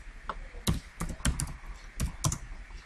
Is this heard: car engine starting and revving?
no